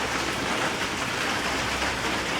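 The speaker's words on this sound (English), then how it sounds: "of course it's raining" Steady rain falls outside a carport during front-end suspension work on a 2004 Jaguar S-Type, a continuous even hiss of drops on surfaces with no voices, holding at a constant level throughout.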